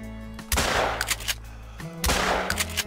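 Two loud, booming shotgun blasts about a second and a half apart ring out while hunting wolves in theHunter: Call of the Wild, each followed by a short decaying tail over a steady humming in-game ambience.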